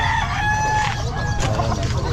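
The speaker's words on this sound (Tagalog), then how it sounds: "Manok lang, manok." Chickens cluck and a rooster crows close by at a busy pet market, overlapping calls over a steady low background din.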